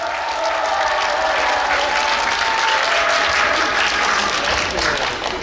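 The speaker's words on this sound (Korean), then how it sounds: "큰 박수 한번 부탁드리겠습니다" A crowd at a celebration concert claps steadily and warmly, a dense, sustained round of applause that holds at the same level throughout.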